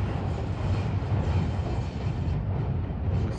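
A loud old three-car electric train in Tokyo rumbles past close by, a heavy continuous roar of wheels and motors with a deep low-end throb.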